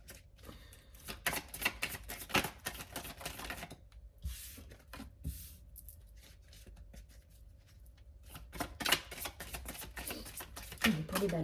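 Tarot cards are shuffled close by, with rapid papery riffles and flicks in irregular bursts that fade around the middle and then pick up again. The sound is fairly faint and a voice is faintly present.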